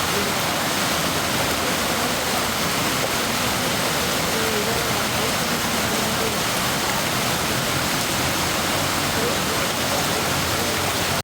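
Heavy monsoon rain pours steadily in Tarikere, Karnataka, a loud, dense, unbroken roar of downpour and rushing runoff water with no break.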